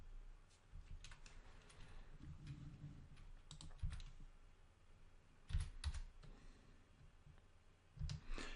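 Quiet typing on a computer keyboard, with irregular clusters of soft key clicks and a few louder taps, heard close and alone without talk.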